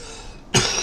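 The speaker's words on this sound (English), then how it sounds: "I do still have a little cough going on" A single short, close cough bursts out after a quiet moment, rough and breathy, with no talking around it.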